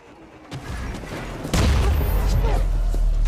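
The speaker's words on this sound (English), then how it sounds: "Your cannon destroy the right enemy tower." Tower destruction in the video game Smite, a sudden loud blast at about 1.5 seconds followed by sustained heavy rumbling game noise, with a lighter burst of battle sound before it.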